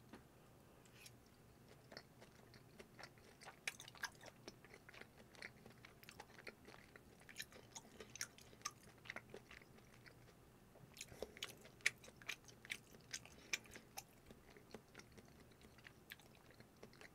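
Chewing and biting on No Brand takoyaki at close range, with soft wet mouth clicks and crunches spread irregularly over a quiet background and no talking.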